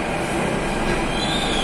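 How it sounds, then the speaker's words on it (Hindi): A Delhi Metro train arrives at Mandi House station, rumbling steadily close by, with a continuous rolling roar and a thin high squeal from the wheels, no voices. "हमारी दूसरी मेट्रो आ चुकी है"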